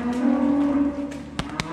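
Cattle on a farm yard give a drawn-out low moo for nearly a second, followed by faint shuffling and two sharp knocks or clatters near the end.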